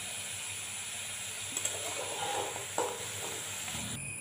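Potatoes frying in oil for aloo gobhi sabzi, a steady soft sizzle with faint scraping and stirring clinks of a utensil in the pan, close and fairly quiet, no talking.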